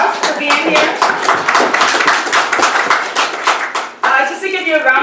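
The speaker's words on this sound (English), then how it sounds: "I think you should give yourself a big round of applause for being here." A crowd applauds at a community meeting with a burst of quick, overlapping claps that fade out after a few seconds, followed by a voice beginning to speak.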